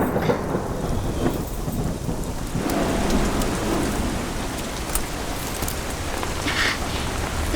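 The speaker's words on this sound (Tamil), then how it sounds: "மறுபடியும் மழை" Steady heavy rain pours down with a dense, even hiss, and low rumbles of thunder roll underneath during a thunderstorm, with no voices present.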